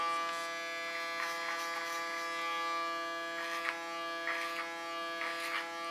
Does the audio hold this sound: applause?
no